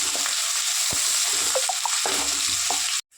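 Onions and green chillies sizzle steadily in hot oil, a close, dense frying hiss with a few soft spoon knocks against the pan, cutting off abruptly near the end.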